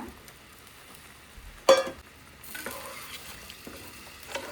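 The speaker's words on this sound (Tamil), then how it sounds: "ஸோ புளி கரைச்சல் ஊற்றிக்கோங்க" Tamarind extract is poured into a hot pan of Kerala-style fish pollichathu masala. After a quiet, low rumble there is a sudden sharp hiss, and then a steady, moderate sizzle and bubbling continue.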